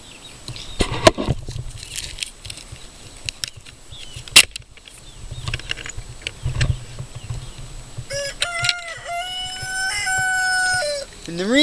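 Backyard chickens, including a broody hen, with scattered clucks and clatters early on followed by a loud, drawn-out rooster crow near the end, close by and without talk.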